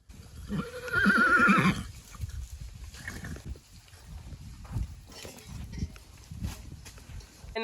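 A mare lets out a loud, close whinny early on, followed by quieter snorts, shuffling and hoof sounds on a farm.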